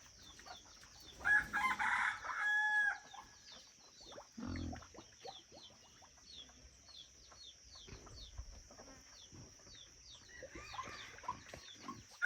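A hybrid jungle fowl rooster crows in a rural village setting, one loud close crow early on, followed by softer clucks and faint farm sounds against a steady high insect drone.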